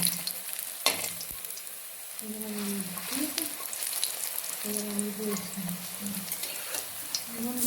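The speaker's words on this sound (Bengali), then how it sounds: "আমাদের বড়ার এক পাশ ভাজা হয়ে গেছে এখন এই বড়াটাকে আমরা আরেক পাশ করে উল্টে দিচ্ছি" Gandal leaf fritters fry in hot oil over a low flame and are flipped to the other side, giving a steady close sizzle with a few soft turning scrapes while someone talks over it.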